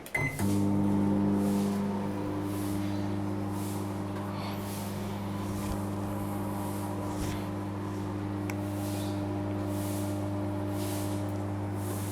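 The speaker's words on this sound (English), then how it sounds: "Again, I'm using a microwave." A microwave oven hums steadily for the whole stretch, a constant electric drone with a faint rattle, running alone without voices.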